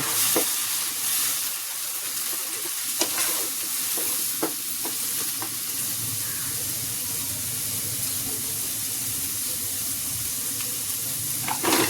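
Onion paste, green chili paste and ground coriander, cumin and turmeric sizzle steadily in a pan while a utensil scrapes and stirs with sharp intermittent clicks, close and fairly loud, with no talking.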